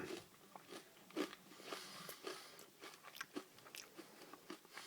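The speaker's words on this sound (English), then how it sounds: "Eating a Butterfinger is more about that kind of crisp flakiness" Someone bites and chews a crunchy Butterfinger candy bar up close, a run of crisp, flaky crunches and crackles at an uneven pace, with no talking.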